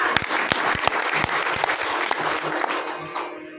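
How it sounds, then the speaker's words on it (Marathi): An audience applauds at a devotional kirtan with loud, dense clapping. Sharp individual claps stand out against the steady rattle throughout. "टाळ्या वाजवा."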